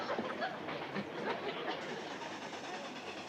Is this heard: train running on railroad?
yes